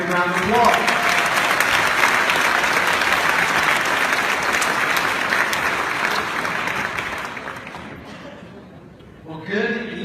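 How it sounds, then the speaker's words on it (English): Audience at a Bethpage Air Show reception dinner ceremony applauds a Navy Blue Angels commander, loud sustained clapping filling the room for several seconds before fading, with brief talk at the start and a voice returning at the end. "Let's give him a great round of applause."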